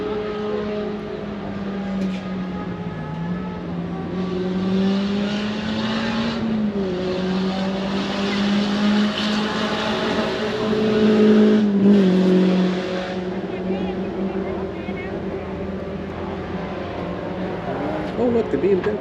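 Race cars at the SCCA Runoffs 2023 road race, with BMWs and B-spec Minis, droning past in a steady, rising and falling engine roar from mid-distance, with people chatting nearby.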